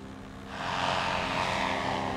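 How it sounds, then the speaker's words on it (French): A small aircraft takes off along the Côte d'Opale coast between Boulogne-sur-Mer and Calais: a steady engine roar swells after about half a second and then holds loud and close, with no voices. "Là, on est en train de décoller de l'endroit où je m'envole parfois le matin"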